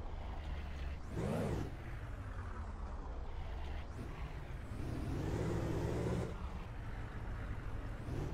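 An SUV towing a trailer in the farming game Ranch Simulator gives off a low, steady engine drone that swells and eases in a few places. It stays fairly quiet, with no speech.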